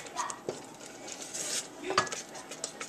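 A utensil stirs mustard seasoning into a bechamel sauce for mac and cheese, with soft scrapes and a couple of clinks against the pot over a low background hum.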